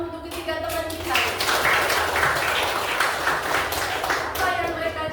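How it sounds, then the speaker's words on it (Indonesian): A classroom of young pupils clapping for three classmates, a dense burst of hand claps rising after a teacher speaks and continuing for a few seconds before voices return. "jadi tepuk tangan dulu untuk ketiga teman kita"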